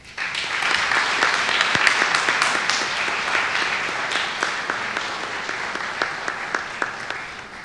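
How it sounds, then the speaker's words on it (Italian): A church festival crowd at the feast of the Madonna del Buon Consiglio breaks into sustained applause, dense and even, with scattered louder claps standing out near the end. "un doppio applauso."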